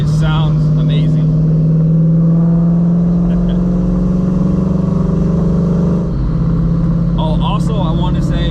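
Ford Mustang S197 with a newly fitted Paxton Novi 2200 supercharger, 93-octane fuel and a base Lund Racing tune, running in hot Houston weather: a loud, steady engine drone with a brief dip near the end.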